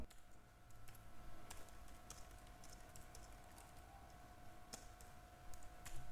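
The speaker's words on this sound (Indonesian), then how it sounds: "Kita beri tanda kurung, kita ketik keterangan" Steady typing on a computer keyboard during spreadsheet work, a run of light, irregular key clicks with a few sharper taps, faint against a quiet room hiss.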